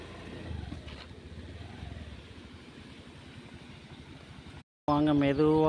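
A vehicle engine hums along at low speed on a slow ride through a village, a steady mid-pitched drone that fades gradually. It cuts out abruptly near the end and gives way to louder music.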